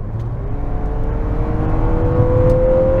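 A 2022 Lexus NX 350 F Sport crossover under hard acceleration from inside the cabin, its engine droning and rising steadily in pitch as it pulls, loud and continuous with no talking.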